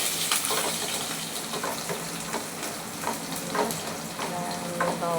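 Chopped ginger, garlic and green chilli frying with curry leaves in hot oil for a home chicken roast: a lively, close, continuous sizzle and spatter with brief bursts of crackle, no speech.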